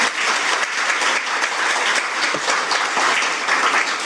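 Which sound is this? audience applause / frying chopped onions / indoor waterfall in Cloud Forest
audience applause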